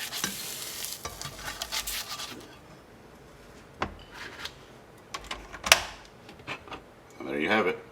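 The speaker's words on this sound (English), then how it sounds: "And then we'll go ahead and give this flip." Egg-in-a-basket sizzling in a pan right after the flip, a soft steady frying hiss with a few sharp clicks and taps of a utensil against the pan, followed by a louder burst of sizzle near the end.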